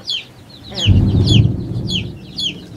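Bantam baby chicks cheep with repeated high chirps over a louder, low clucking chicken sound, nearby and continuous.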